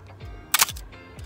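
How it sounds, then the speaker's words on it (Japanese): Canon AE-1 film SLR shutter release set around 1/250 s: a single crisp, loud mechanical snap close to the microphone, with faint low clicks and handling thumps before and after. "この AE1 の音結構好きですね。"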